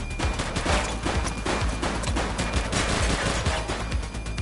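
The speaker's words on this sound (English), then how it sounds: "Shots fired!" Shootout gunfire in The Precinct, a loud, dense barrage of overlapping shots and bursts that continues for several seconds without pause.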